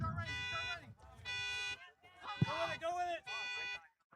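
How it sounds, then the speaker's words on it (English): A car alarm blares in repeating pulsed bursts near a boys' high school soccer match at Washington, with a commentator talking over it throughout. "There's a car alarm blaring."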